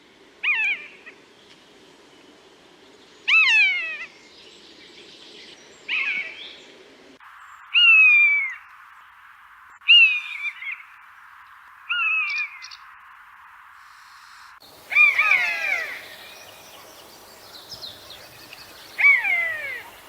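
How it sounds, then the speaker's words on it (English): Buzzard calls recorded outdoors in the countryside: a series of high, descending mewing cries, about eight separate calls spaced a couple of seconds apart, clear and fairly near against quiet background. "So that is what a buzzard sounds like."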